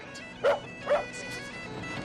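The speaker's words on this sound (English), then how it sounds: "Look, a dog." Dog giving two short, sharp yipping barks about half a second apart, close by, followed by a faint whimpering tail under quiet background noise.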